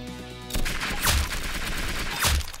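Gunfire in the Roblox game Arsenal, landing a headshot: a couple of sharp, loud digital shots about a second apart, each with a short crashing tail over a steady game background.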